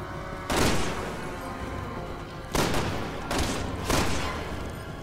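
Gunfire in Resident Evil 6 bursts out in four heavy, booming shots, one alone and then three in quicker succession, each with a long rumbling decay over steady game ambience.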